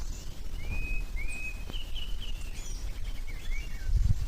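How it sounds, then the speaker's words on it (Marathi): Small birds chirp in short whistled calls across a rainy monsoon rice-farming landscape in Konkan, faint and distant over steady low rumble and background noise. "पक्ष्यांचा आवाज वगैरे पण येतोय मस्त."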